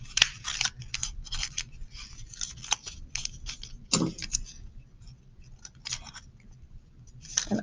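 Sharp, quick snips of scissors cutting paper for a homemade paper roller coaster loop, a series of close, crisp clicks in uneven bursts with short pauses, no voices.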